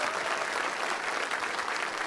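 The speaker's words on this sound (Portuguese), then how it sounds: "Mais forte as palmas para Jesus." A church congregation at a charismatic evening service claps together in a steady, dense, loud burst of applause, close and continuous, with no speech on top.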